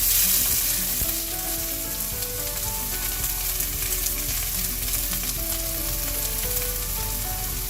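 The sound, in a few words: onions frying in hot oil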